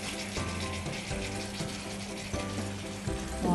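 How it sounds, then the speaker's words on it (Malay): Peanut satay sauce for Bruneian kuah kacang sizzling and frying in a hot wok while being stirred, a steady crackle with soft scraping strokes, close and fairly quiet. "Sudah nampak sudah ia punya kuali itu pun sudah panas. Jadi tani kacau saja sampai ia pecah minyak."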